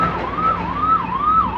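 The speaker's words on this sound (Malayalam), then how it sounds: "എന്താണ് ഒരു ആംബുലൻസ് വരുന്നത്." Ambulance siren on an Indian road, wailing up and down in a steady cycle, loud and close as it passes, with faint traffic rumble underneath.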